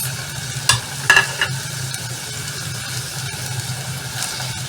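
Tomatoes sautéing with softened, translucent onions in a pan, a steady sizzle with a few brief louder clatters of stirring near the start.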